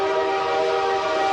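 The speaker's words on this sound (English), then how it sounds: "Got the train. Choo-choo train," A train horn sound effect, one loud, sustained tonal blast with several layered pitches, held steady and alone without talk.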